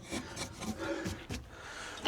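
Close, dry scraping and rasping of a hand tool carving a wooden sculpture from old shed wood, in short irregular strokes with brief pauses.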